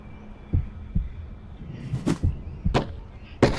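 Heartbeat pulse in the VR game Naau: The Lost Eye, a series of soft low thumps at a slow, uneven pace over a faint hum, with a few sharper clicks and bursts mixed in near the end.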